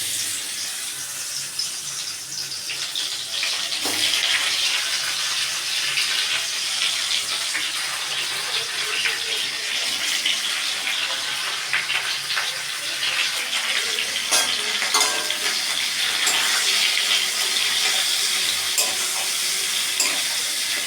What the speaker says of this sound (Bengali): এবার তেলের মধ্যে আমগুলো দিয়ে একটু